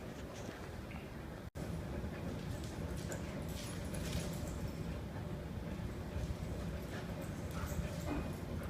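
Dogs fighting in a motorcycle shop, heard as a dense, noisy scuffle of scattered yips, whimpers and barks with clattering movement, fairly faint and continuous throughout.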